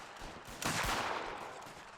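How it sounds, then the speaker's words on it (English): A volley of black-powder musket fire at an Anglo-Zulu War reenactment event cracks out at mid distance. A sharp burst is followed by a rumbling tail that fades away. "Bit of gunfire."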